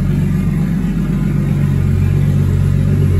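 A Lexus IS300 built for about 1000 horsepower, with a surge tank fuel system, runs on open exhaust: a loud, steady, deep droning rumble that holds constant and close with no speech.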